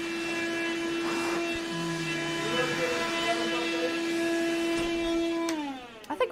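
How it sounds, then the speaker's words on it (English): A steady, droning vacuum cleaner hums close by with a constant motor tone, cutting out abruptly near the end with a few clunks. "Vacuum cleaner."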